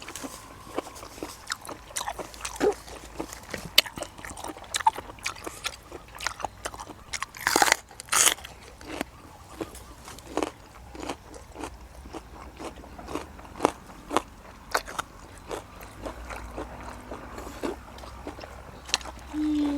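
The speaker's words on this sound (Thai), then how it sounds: "อันนี้มันเคี้ยวไม่ขาด มันใหญ่เกิน" Someone bites and chews tough food up close, with scattered crunches and moist chewing sounds at an irregular pace, quiet outdoor evening background, and occasional talk between bites.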